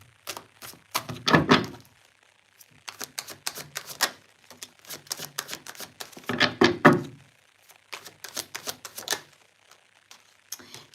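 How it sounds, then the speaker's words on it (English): Angel oracle cards are shuffled and pulled during a live reading, giving dense bursts of crisp paper flicks and riffling snaps separated by short pauses, close and clear. "So let me just quickly pull a few angel cards."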